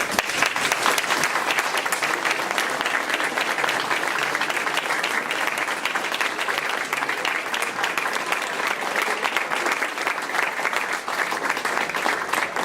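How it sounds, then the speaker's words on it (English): A room of people at a community board meeting applauds veterans, with sustained, dense clapping throughout, loud and even, with light crowd noise mixed in. "So I'd like for all our vets to stand up and give them a round of applause"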